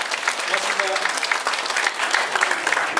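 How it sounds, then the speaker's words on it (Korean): Listeners at an agricultural training lecture on growing garlic applaud at the end of the session, with steady, close clapping throughout and voices talking underneath. "박수 부탁드릴게요."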